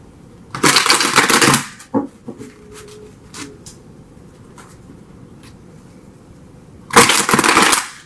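Tarot cards are shuffled close by in two loud riffling bursts, one at the start and one at the end, with softer taps and card handling between them.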